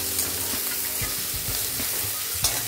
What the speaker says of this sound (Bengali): দিয়ে দিলাম লবণটা, দিয়ে একটু নাড়াচাড়া করবো